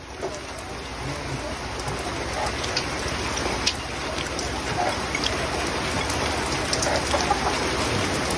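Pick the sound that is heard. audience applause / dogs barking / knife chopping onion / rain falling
rain falling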